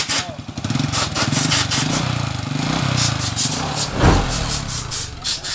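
A chain-type motorcycle engine idles steadily and smoothly up close, a continuous low rumble with a brief rise partway through, amid workshop clatter.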